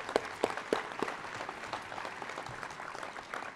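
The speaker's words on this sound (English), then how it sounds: "So one more big round of applause for them." A crowd at a 2016 adult and career education commencement ceremony gives a short round of applause, scattered claps rising briefly and settling into a moderate, somewhat distant patter.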